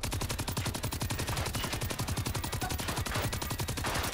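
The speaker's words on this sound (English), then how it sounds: "He launched a mortar, but it wasn't aimed that for me." Rapid, continuous automatic gunfire-like bursts from a tank firing in the video game Generation Zero, a dense loud rattling of repeated blasts filling the whole stretch with no pauses.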